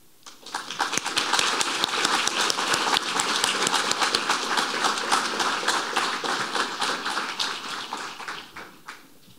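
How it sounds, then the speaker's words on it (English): Audience applause for the builders and moderator Kate Aoki at a builders roundtable event: dense, steady clapping from many hands that starts quickly, holds for about nine seconds and tapers off at the close. "Let's give a round of applause for our first selection of builders and our moderator, Kate Aoki"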